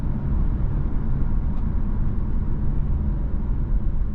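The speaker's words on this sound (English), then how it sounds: "See how the downshifts are?" A 2024 Infiniti Q50 Red Sport 400 driven on the road, heard from inside as a steady low engine rumble under road noise, with brief shifts in pitch as it downshifts.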